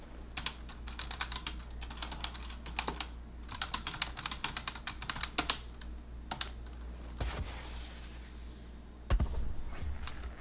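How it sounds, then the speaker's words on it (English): Rapid, uneven keystrokes on a computer keyboard during a Dauntless game session, close and crisp with short bursts and pauses, ending in a heavier thump, with no talk. "I'm actually going to type it into..."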